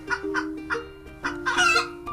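Several chickens cluck in short, repeated bursts, with a steady low hum running underneath; no talking.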